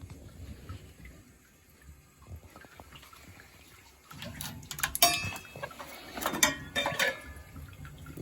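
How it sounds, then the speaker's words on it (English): Water rushing back through household plumbing after the supply is turned on in a flooded basement with a failed 50-gallon water heater, starting quiet then swelling into louder hissing and gurgling bursts near the end. "Water's back on? Yeah, it's on now."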